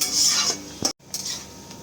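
Vegetables for veg chowmein fry in a pan over a low flame while being stirred, with scraping and sizzling that drop out briefly in a short silent gap before resuming.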